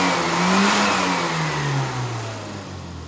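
Classic Mini's engine revs up and then eases back on a test drive after carburettor tuning, a loud, close, rising and falling growl with no talking.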